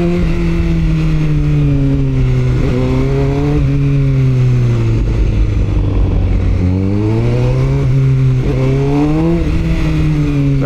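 A Honda CBR1000RR-R Fireblade sportbike ridden on the road, its engine loud and close as it rises and falls through repeated revving surges and gear changes, with no talking.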